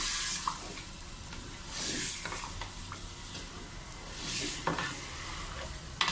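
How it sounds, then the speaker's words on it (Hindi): A chicken biryani mixture of tomato and yogurt is stirred in a pan, with a steady scraping and sizzling texture and occasional clinks, loud and close, with no talk. "अब इसको आप अच्छी तरह मिक्स करें।"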